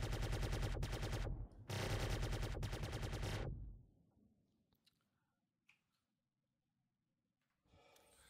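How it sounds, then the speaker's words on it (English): Rapid-fire ship guns of the F8C Lightning in the Star Citizen video game, two loud sustained bursts of extremely fast fire separated by a short gap, then cutting off into near silence with faint scattered clicks. "I would have swore I had other ships that had these same guns, but did not have that ridiculous rate of fire."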